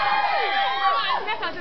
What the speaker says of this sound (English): Round of applause for Teddy.